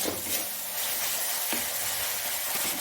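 Spice masala fries in hot oil with a bright, constant sizzle while a spoon stirs through it, adding soft scraping strokes for nearly three seconds.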